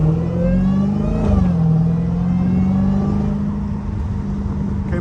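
A Dodge Hellcat engine revs hard and accelerates close by, its deep steady roar rising in pitch briefly before holding a loud, continuous drone with no talking.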